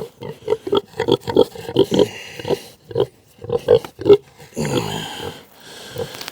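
Repeated loud pig grunts and squeals in quick bursts, close by, followed by a harsher, noisier squeal, as a pig protests at feeding time.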